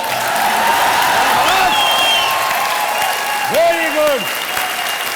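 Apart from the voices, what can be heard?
audience applause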